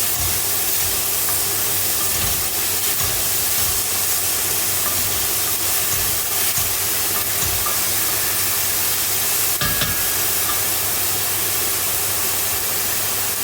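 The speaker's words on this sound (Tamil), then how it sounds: "வெங்காயம் போட்டு தாளிக்கிறோம்" Steady, loud sizzling hiss of onions frying in hot oil, continuous and even, with occasional soft clinks and thumps from cooking.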